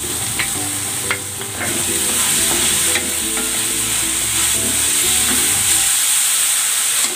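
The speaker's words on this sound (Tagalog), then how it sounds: "At itong Baguio beans. Maglalagay ako ng oyster sauce." Baguio beans stir-fried with oyster sauce in a pan, a loud, continuous sizzle with steamy hiss and repeated scraping strokes of a spatula close by.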